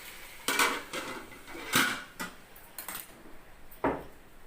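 Fresh garlic and ginger are pounded by hand, producing a handful of sharp, irregular knocking thuds close by, spaced about half a second to a second apart with quiet gaps between strikes.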